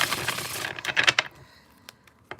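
Tarot cards are shuffled in a quick burst of crisp riffling and flicking, then fade to a few sparse soft taps, close by and fairly quiet, with no talking.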